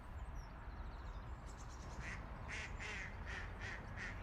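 Ducks quacking on water in a repeated series of short, fairly distant calls from about the midpoint onward, set against a steady low outdoor rumble.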